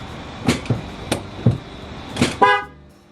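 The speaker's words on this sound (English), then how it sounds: "Get the first honk." Several sharp clicks and knocks, then a single short car horn honk near the end, close and fairly loud, from a Jeep Wrangler JL.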